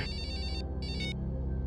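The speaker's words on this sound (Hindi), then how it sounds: "उन्हीं अपराधियों का फोन है सर।" A telephone rings in a tense crime-drama scene, giving two quick bursts of electronic trilling, the second shorter, over a steady low musical bed.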